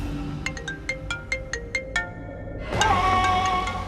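A phone ringtone plays a quick series of bright, evenly spaced chimes, then shifts into a louder, fuller melodic ring.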